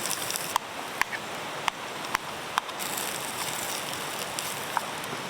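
Light summer rain pattering steadily on a tent or tarp at a riverside campsite, with a few sharper drops tapping near at hand against a constant soft hiss.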